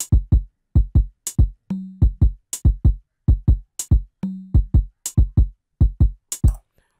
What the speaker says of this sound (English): I added some percussion that's a little bit like conga. So that one sounded like this.